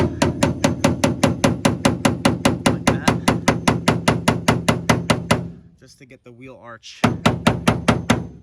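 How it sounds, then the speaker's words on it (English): Rapid, evenly spaced hammer blows strike a car body seam edge in a steady rhythm, pausing briefly while someone speaks, then resuming. "I'm gonna try to knock down what I can on the edges with a hammer"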